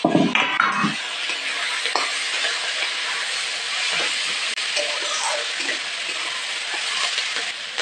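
Small local potatoes fry with green chilies in a covered pan; when the lid comes off, a steady, close steam hiss and soft sizzle run throughout, with a few clinks of cookware at the start.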